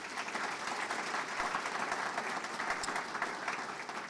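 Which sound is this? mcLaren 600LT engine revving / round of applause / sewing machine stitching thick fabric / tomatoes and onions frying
round of applause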